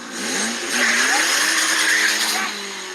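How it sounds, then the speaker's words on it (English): A turbocharged race car engine revving hard at full throttle, rising in pitch with a whining turbo and some tire squeal, loud and close for about three seconds. "You hear the turbo? Put it in first. Floor it."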